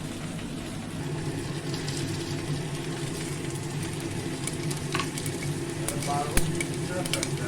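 Continuous sizzling of panch phoron whole spices in hot oil, close and moderately loud, with a low background rumble and a couple of sharp clinks near the end.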